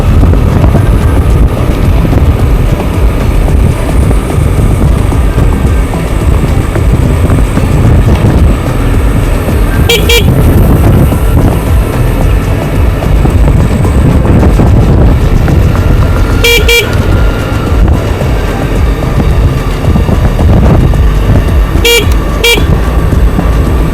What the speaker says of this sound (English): So you have to honk the horn come around these corners because they're kind of blind